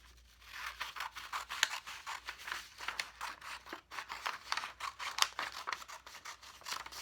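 Scissors snip through folded paper in a steady run of short, crisp cuts with light rustling between strokes, close and fairly quiet, no voices.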